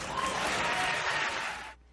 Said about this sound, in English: You can applaud, sure.